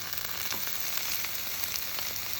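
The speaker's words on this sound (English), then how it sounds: "You can just hear them sizzle." Kale fries in a pan with a faint, steady hiss and scattered small pops, a low continuous sizzle with no talking.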